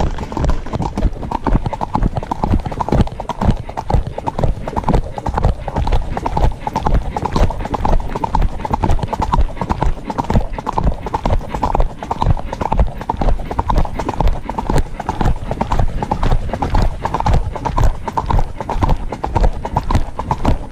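A horse's hooves clip-clop in a fast, steady canter on a forest ride in the Forest of Dean, loud and close throughout, with occasional rider voices in the mix.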